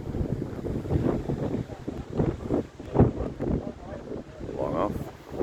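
Strong gusting wind buffets the microphone at an outdoor country cricket grand final, a loud rumbling roar that surges and eases without a break, with talk heard through it.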